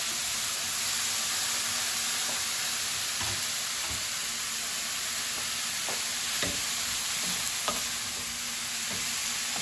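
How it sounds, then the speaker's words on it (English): Mushrooms and courgette fry in a pan with a steady, even sizzle that runs the whole way through. Occasional scraping taps from stirring break in, and no one talks. "and then I add the mushrooms and the courgette"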